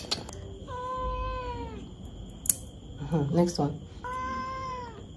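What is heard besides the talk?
cat meowing during toenail trimming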